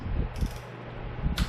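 A torque wrench tightens a timing gear bolt on a 2005 Chevy Corvette, giving close, quick metallic ratchet clicks in short bursts with a brief pause between.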